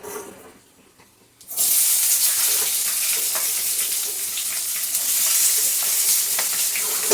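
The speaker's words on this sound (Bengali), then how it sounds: "এখন দিয়ে দিচ্ছি কাটছি করা পেঁয়াজগুলো" Chopped onions drop into oil already holding bay leaf, dried chili, cumin, cardamom, cinnamon, cloves and peppercorns; after a brief quiet moment a loud, sustained sizzle erupts and continues, with occasional stirring underneath.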